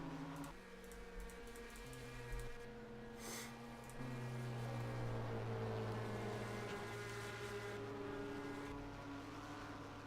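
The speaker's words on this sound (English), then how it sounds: "it almost sounds like Rick Johnson is coasting a little bit under caution" A race car engine in a racing video game hums steadily while coasting under caution at Atlanta Motor Speedway, a sustained low drone with slowly shifting pitch and no voices.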